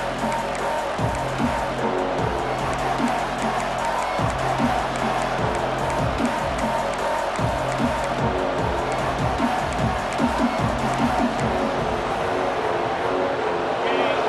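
A large stadium crowd in a sports video game roars continuously, a dense steady wash of cheering with rhythmic thumping pulses underneath.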